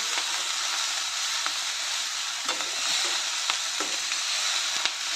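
Purslane greens (chivli bhaji) stir-fry in a hot pan, a steady close sizzle and hiss with occasional soft scraping clicks from stirring.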